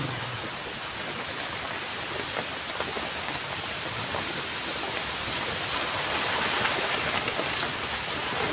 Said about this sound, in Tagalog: Ito malakas na yung ulan.